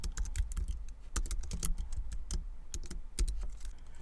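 Code is being typed on a computer keyboard during C# programming work. Close, rapid, irregular key clicks with occasional heavier thumps, like the spacebar or enter key, continue without any talking.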